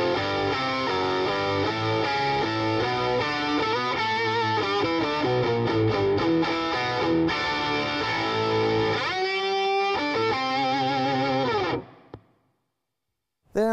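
Electric guitar run through an old octave pedal, a thick doubled tone playing a steady riff of loud notes for several seconds, then cutting off abruptly.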